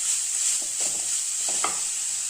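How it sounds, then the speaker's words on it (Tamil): Grated gooseberry sautéing in a pan for a lemon rice spice mix gives a steady high hiss of frying, with a few soft stirring scrapes in the middle, close by and without speech. "அப்புறம் நம்ம இந்த நெல்லிக்காய் துருவலை போட்டுக்கலாம். போட்டு கொஞ்சம் நல்லா வதக்கிக்கலாங்க."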